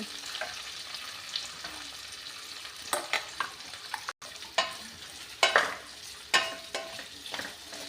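Chillies roasting in a pan for chutney, a steady faint sizzle punctuated by scraping stirs and clinks of a utensil against the pan.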